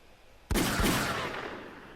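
A single heavy burst of gunfire erupts suddenly in the video game Fairy Fencer F: Refrain Chord, loud and booming, then rings out in a long decaying tail with no talk over it.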